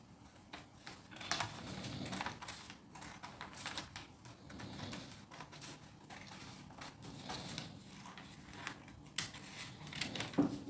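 Scissors cut through a dress fabric pattern piece with a series of faint, close crisp snips and rustles in an irregular rhythm, quiet and without talk.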